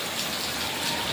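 Heavy evening rain pours down in a village during a thunderstorm, a dense, steady hiss of drops close by with no break.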